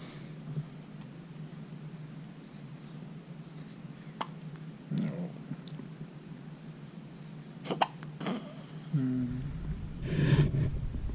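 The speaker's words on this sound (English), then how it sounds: "You got the hiccups." A baby hiccups in a quiet room, with a handful of short, abrupt catches spread irregularly over low background hum, followed by louder rustling and movement near the end.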